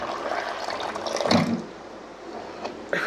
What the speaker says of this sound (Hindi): साफ पानी से भी धो लेते हैं,